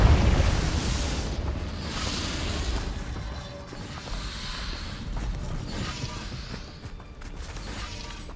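A Confringo blasting spell cast in Hogwarts Legacy, opening with a loud deep burst that settles into a long rumbling, crackling roar of fire and debris.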